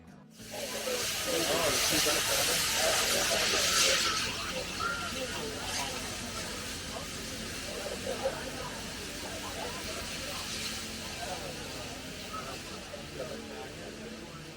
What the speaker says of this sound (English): It's amazing to be standing next to a steam locomotive